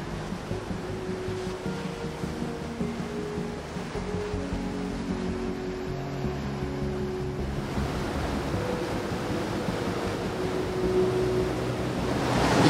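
Sea waves wash ashore on a beach near Vestrahorn mountain in Iceland, giving a steady broadband roar of surf with no break, swelling slightly louder toward the end, with no voices present.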